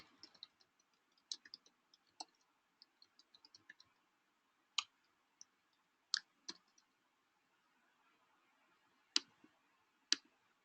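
Typing in an email compose window on a computer keyboard, soft irregular key clicks with a few sharper, louder taps spaced through a quiet stretch.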